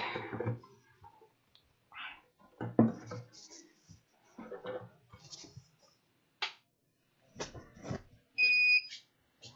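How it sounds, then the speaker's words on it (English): A JGAurora 3D printer's buzzer gives a short, high electronic beep near the end, heard among handling noises, clicks and some brief speech. "If anybody knows how to disable the buzzer, the beeper on this printer"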